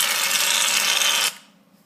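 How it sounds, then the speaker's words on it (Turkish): Shaving foam sprayed from an aerosol can for making slime, a loud, close, steady hiss lasting over a second before cutting off abruptly. "Sonracığıma tıraş köpüğümüzden alıp"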